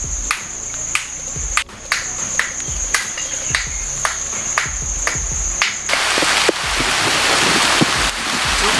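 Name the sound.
rain falling in a monsoon forest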